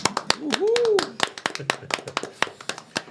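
Hand claps from a small group welcoming a guest onto a Brazilian podcast set, sharp close claps in an uneven patter over about three seconds, with a brief voice sliding up and down near the start.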